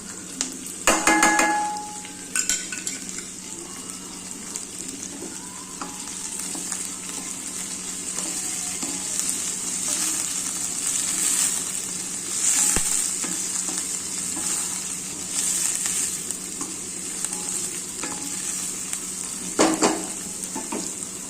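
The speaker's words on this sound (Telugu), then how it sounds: "ఇప్పుడు కరివేపాకు వేస్తాం." Curry leaves hiss and crackle in hot oil in a pan with onions cooking slowly over low heat, a steady close sizzle throughout with occasional utensil clinks and stirring.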